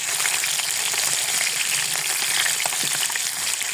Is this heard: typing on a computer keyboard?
no